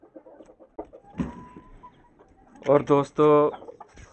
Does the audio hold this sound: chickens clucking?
yes